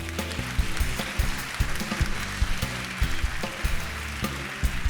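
An audience applauds at a state pageant finals show for the Miss Virginia Volunteer 2023 pageant sponsors: steady, dense clapping fills the room with sharper individual claps, over a low hum and faint background sounds.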